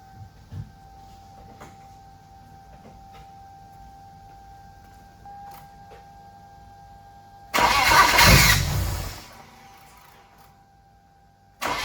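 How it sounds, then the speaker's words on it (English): A turbocharged BMW E30 engine fires up for the first time, a loud burst of starting roar that lasts about two seconds after a long quiet stretch, then cuts off before another short surge at the very end. "we may finally get the car to start"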